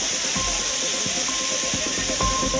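The Courtallam main waterfall in Tenkasi, a continuous loud, dense roar of falling water with steady hiss and no break.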